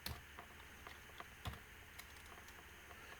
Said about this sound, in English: Then I'm going to type Tokyo.